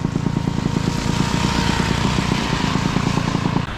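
A Tomos moped engine runs close by with a fast, even two-stroke putter that stays steady and loud throughout.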